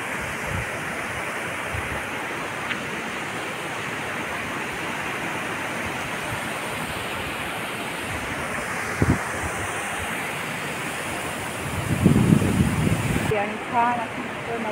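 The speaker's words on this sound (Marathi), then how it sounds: "इथे पण असं ओढा वाहत आहे छोटे छोटे धबधबे खूपच छान पाणी वा आवाज ऐकत असेल तुम्ही मस्त येते आवाज" Small stream with little waterfalls rushing along a ghat roadside, a steady broadband wash of flowing water with wind buffeting the microphone, and brief voices near the end.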